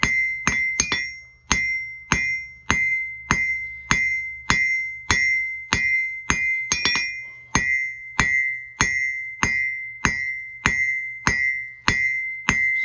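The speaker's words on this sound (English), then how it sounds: "my anvil still rings" A blacksmith's anvil rings under hammer blows, about fifteen sharp metallic strikes in a fairly steady rhythm, each leaving a bright, sustained ring that decays before the next hit, close and loud with no talk.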